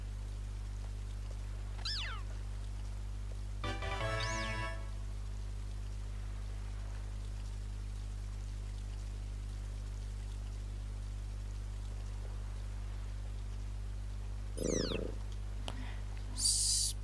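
Sprigatito, the grass cat Pokémon in Pokémon Scarlet, gives a few short, bright meows and trilling purr-like calls, spaced apart over a steady low in-game hum, with no talking.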